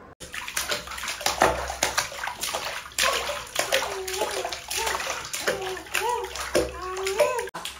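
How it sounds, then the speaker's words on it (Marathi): A seven-month-old baby plays in a bathtub, splashing and sloshing water close by in irregular bursts while babbling and making little vocal sounds over the water. "तिला आजकाल पाण्यात खेळायला फार आवडतं"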